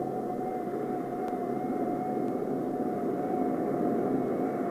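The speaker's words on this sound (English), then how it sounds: "During the engine run-up, all electrical equipment is operated from the engine-driven generator." Ryan Firebee drone jet engine during a ground run-up, a steady loud roar with a sustained whine holding constant throughout, no voices present.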